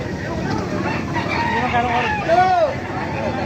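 A nine-month-old gamecock rooster crows once, loud and close, amid a busy open-air market at Baliuag, with crowd babble and voices running underneath.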